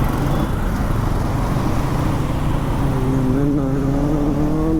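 Heavy Marathahalli traffic jam noise surrounds the listener: a continuous loud rumble of engines and road noise, with a rising engine tone near the end.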